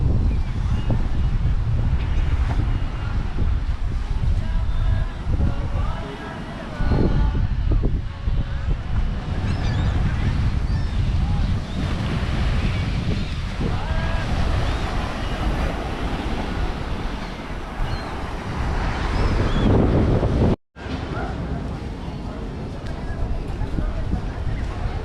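Wind and surf at Progreso beach in Yucatán, Mexico, a continuous loud rush of waves and gusts buffeting the microphone, with someone talking over it.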